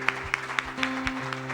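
A congregation at a sermon claps in a slow, regular rhythm, about four sharp hand claps a second, over sustained tones of background music.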